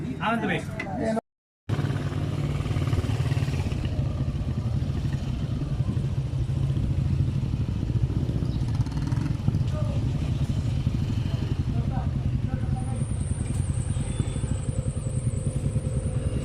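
Motorcycle engines run with a steady, loud low rumble throughout while being readied for loading onto a ship, with voices and clatter mixed in around them.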